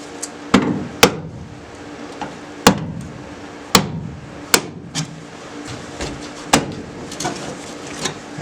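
Repeated heavy thuds of a fist pounding on metal on a 1974 Ford Ranchero project car, about a dozen uneven blows with a ringing edge, close and loud.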